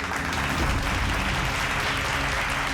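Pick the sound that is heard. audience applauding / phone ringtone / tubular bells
audience applauding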